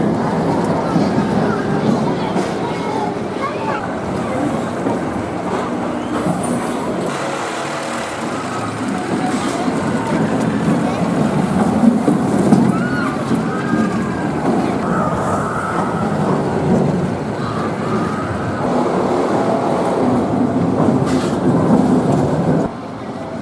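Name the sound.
Dragon's Fury spinning roller coaster ride at Chessington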